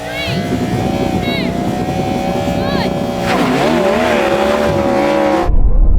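A Yamaha R1M motorbike and a Ferrari SF90 drag race past, loud high-revving engines sweeping through gear changes, with a shouting voice and crowd noise over the roar before it cuts off abruptly.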